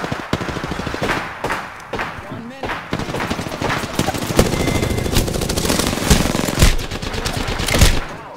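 Rapid bursts of automatic gunfire in a video game, loud and dense, with overlapping shots and sharp cracks across the whole stretch.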